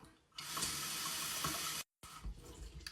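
Tap water runs steadily into a plastic water bottle for about a second and a half, a close, loud, even gush that cuts off abruptly, followed by softer trickling and bottle handling.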